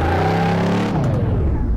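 A Dodge V8 in the Car Mechanic Simulator 2018 video game revs hard, a steady loud engine drone that shifts pitch midway as the revs change, close and continuous with no talk.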